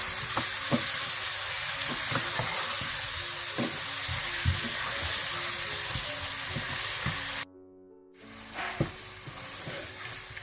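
Mutton frying with cumin and coriander powder for dhaba-style palak gosht: a steady, loud sizzle with scattered stirring scrapes and clicks, broken by a brief near-silent pause before the sizzling resumes.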